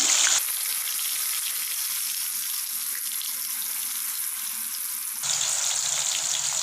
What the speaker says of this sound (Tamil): பெப்பர் மிளகுத்தூளும் உப்பும் கலந்து வச்சு வாழைக்காயை போட்டு எடுத்துடலாங்க.